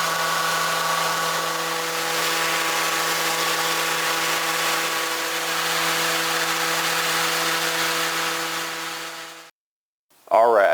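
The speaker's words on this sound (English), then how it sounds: "I've just finished sanding this top with 120 grit" A power sander drones loudly and steadily for about nine seconds while sanding a wooden top with 120-grit paper, then cuts off and a voice begins speaking.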